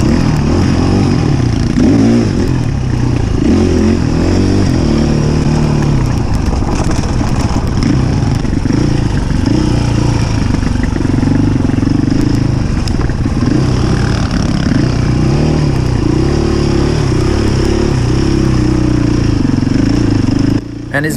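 An off-road dirt bike engine drones loud and close for the whole stretch, revving and bogging as the rider works along a rough trail, with clattering from the terrain and a voice talking over the engine.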